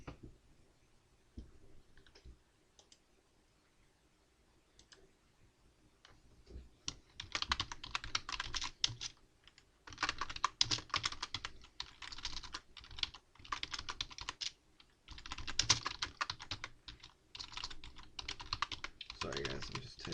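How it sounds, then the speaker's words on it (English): Typing on a computer keyboard: dense bursts of clicking keystrokes, close and fairly loud, in several runs separated by short pauses after a quiet start with scattered faint taps. "I'm just typing something"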